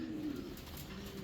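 Low, soft cooing from a running pigeon in a loft, a steady murmuring call that stays faint and distant for a moment.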